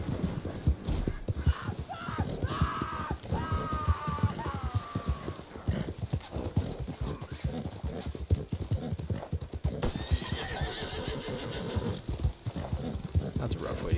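Horse hooves clip-clop continuously in Red Dead Redemption 2, loud and close, with a horse neighing and people talking over the steady pounding.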